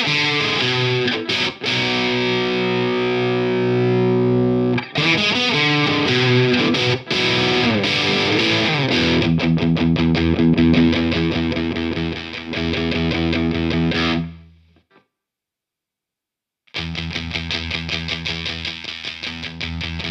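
Electric guitar runs through a Beetronics Abelha fuzz pedal in normal mode with the bass cut, giving thick buzzing distorted chords and riffs played continuously. A brief silent break comes before the playing resumes.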